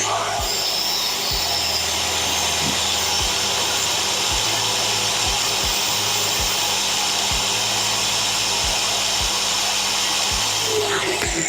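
A motorised cutting machine runs steadily while cutting a round shape for a homemade air cooler, a continuous whining drone with repeated short low thumps throughout, no voices.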